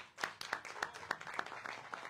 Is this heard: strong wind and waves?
no